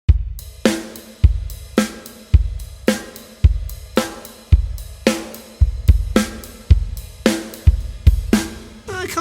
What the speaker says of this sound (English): it sounds a bit weird just on the body of the ride